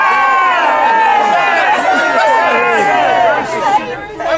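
A crowd shouts and jeers in a passion play's trial of Jesus scene, a dense wash of many raised voices that stays loud and continuous throughout.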